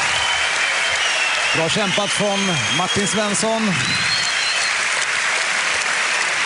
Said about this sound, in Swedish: Så en applåd för sin tapperhet till Martin Svensson.